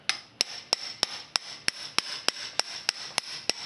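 Repeated chisel strikes on random junk, about a dozen sharp metallic hits in a steady rhythm roughly every third of a second, close and fairly quiet, with no talking.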